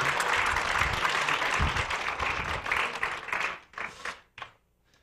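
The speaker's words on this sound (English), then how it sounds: "give Ellie a round of applause" An audience at an illusionist show claps and applauds loudly and steadily for a few seconds, then the clapping thins out into scattered final claps before falling silent.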